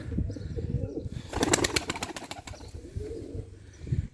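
A young Mardin pigeon is handled close by, with a brief flurry of fluttering wing flaps in the middle and soft low sounds before and after.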